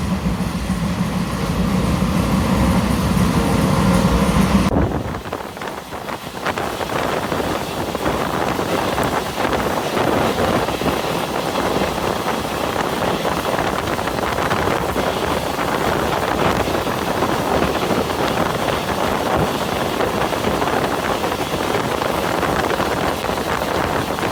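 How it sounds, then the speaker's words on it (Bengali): A passenger train runs at about 77–80 km/h toward Shibchar, heard from on board as a loud, continuous rumbling roar mixed with heavy wind rush. "আমাদের ট্রেনটি শিবচরের দিকে যাচ্ছে আর বর্তমানে তার গতি হচ্ছে সর্বোচ্চ 77, হয়তো 80 অতিক্রম করবে।"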